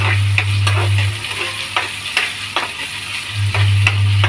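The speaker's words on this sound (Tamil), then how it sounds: "கேரட்டு, பீன்ஸு, கறிவேப்பிலை எல்லாம் போட்டு நல்லா வதக்கின வாட்டி தான் தக்காளி பழம் போடணும்" Carrot, beans and curry leaves sautéing in a pan for vegetable poha, a loud close sizzle and hiss with regular spatula scrapes and clinks and a low steady hum from the stove.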